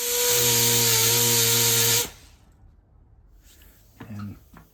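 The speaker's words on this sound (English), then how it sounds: "take the grinder and grind that rivet" Power grinder cutting off a rivet on a vehicle vent window, a loud high whine for about two seconds that stops abruptly, followed by quieter handling noise.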